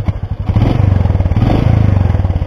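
A Royal Enfield Meteor 350 motorcycle engine revving close by, a loud pulsing single-cylinder thump that runs steadily through the whole stretch.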